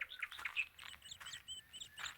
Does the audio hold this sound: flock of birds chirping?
yes